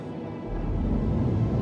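A low rumbling spaceship engine hum in the game Star Citizen swells up after a brief moment and settles into a steady, deep drone as the ship powers on in its hangar.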